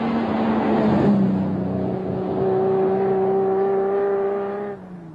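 A Ferrari engine hums as the car drives along, a steady close tone that climbs and holds as it accelerates before easing off at the end.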